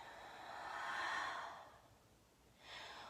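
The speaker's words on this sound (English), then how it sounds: "Breathing." Slow, audible breathing during a gentle yoga flow, a long drawn breath swelling and fading followed by the start of another, alone and close with no talking.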